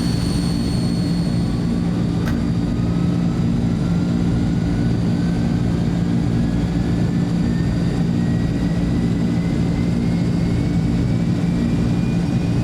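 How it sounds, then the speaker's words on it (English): Azurpoly C-160 Transall engine in Microsoft Flight Simulator 2024 spooling up, a loud steady turbine roar with a high whine that slowly climbs in pitch, continuous and alone. "engine 2 is coming up"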